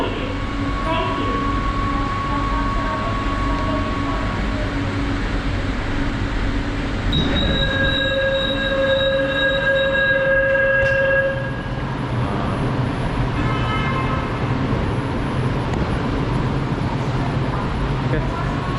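Jakarta LRT train standing at a station, with a steady loud hum of rolling stock and air conditioning, rising electric motor whines and tones, and people talking nearby.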